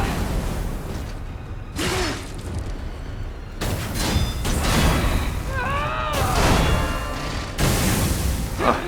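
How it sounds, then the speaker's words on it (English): Explosions in the Lies of P video game during a DLC boss fight, several sharp booming bursts with whooshes spaced a second or two apart, loud and close amid game effects. "I have to dodge the actual explosion, this is the problem."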